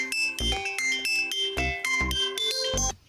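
A mobile phone ringtone plays alone as a loud, bouncy melodic tune with regular beats, filling the clip before cutting off at the end, in a household setting from an Assamese comedy sketch.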